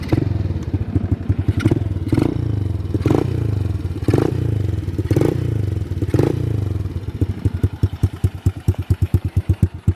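A snow-conversion quad ATV fitted with a track kit fires up and settles into a steady, slightly low idle. Close, loud engine throbbing with a rapid pulsing rhythm and a few sharp clacks, turning choppier toward the end.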